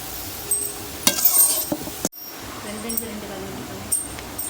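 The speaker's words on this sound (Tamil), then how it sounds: "நல்லா கிளறி விட்டுட்டே இருங்க" Chana dal being stirred in a pan for a dal laddoo sweet, with scraping strokes of a spoon, light sizzle and occasional metallic clinks, fairly close and intermittent.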